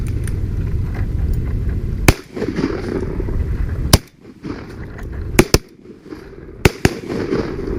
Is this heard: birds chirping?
no